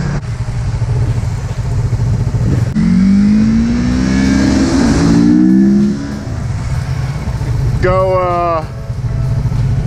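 A project motorcycle accelerates hard, its engine note climbing steadily, dropping at a gear change, then climbing again in a second quick rising surge. People talk over the engine noise.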